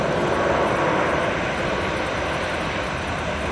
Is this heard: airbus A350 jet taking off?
yes